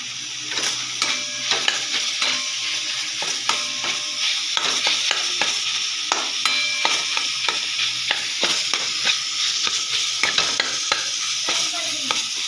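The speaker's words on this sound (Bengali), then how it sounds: "মশলা করে আলুটাকে চিকেনের সঙ্গে একটু নেড়ে ঠান্ডা করতে হবে" A spoon stirs spiced potato and chicken in a pan for chicken chops, giving a steady sizzle under repeated sharp scraping and tapping strokes against the pan, with no talking.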